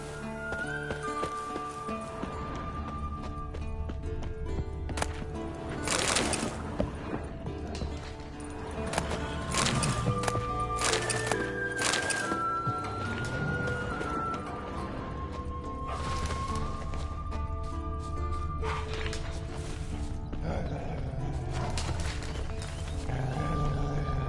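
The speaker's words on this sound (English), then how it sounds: "That's his horse." Hooves of Roach, a horse in The Witcher 3, clip-clop steadily at a walk over a constant game backdrop of music and ambience, with an occasional snort or whinny-like tone and no talk.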